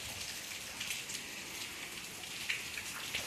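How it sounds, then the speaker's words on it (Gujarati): Light, steady rain falls continuously outdoors, a soft even patter with occasional closer drips, no voices. "તો વરસાદ પણ ચાલુ છે ધીમો ધીમો"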